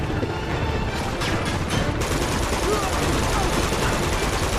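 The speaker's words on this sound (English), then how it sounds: "I can't hear you over the rocket fire." Rocket launches and rapid gunfire in the video game Uncharted 2, a dense continuous barrage of blasts and shots, loud and constant, with speech mixed in.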